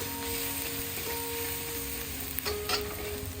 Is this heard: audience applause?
no